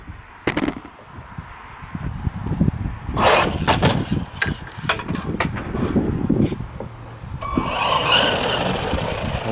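A GP Toys Luctan S912 RC truggy driven with light throttle, close by: a short run of rough, crackling bursts and motor whir that rise and fall, then a steadier hiss near the end.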